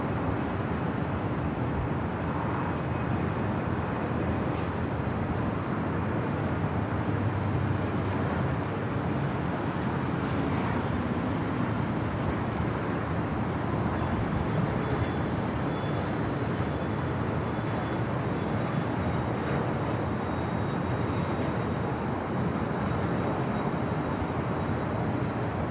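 An Emirates airliner taxis at LAX, a broad continuous engine rumble and roar that holds steady and fairly distant for the whole stretch, with no voices over it.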